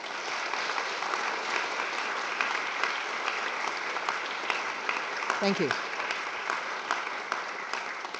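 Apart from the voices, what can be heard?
audience applause for the core faculty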